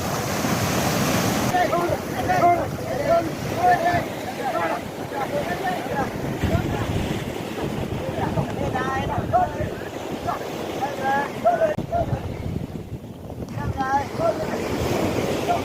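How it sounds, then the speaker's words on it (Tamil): Ocean surf rolls and breaks continuously with heavy wind noise buffeting the microphone, a steady roar with surging swells throughout. "திடீரெண்டு வந்து கடல் பெருசாக ஒழும்பி அடிக்கும்"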